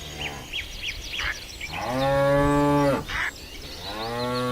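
A herd of buffalo lowing in the wild, several long, deep moos overlapping one another, with a few shorter calls between them, fairly close and loud.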